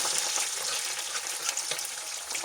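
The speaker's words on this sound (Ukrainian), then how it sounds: "перемішуємо, підсмажимо до золотистого кольору" Chopped onion frying in a pan for a potato-and-minced-meat dish, a steady close crackling sizzle with light stirring scrapes, continuous and fairly loud throughout.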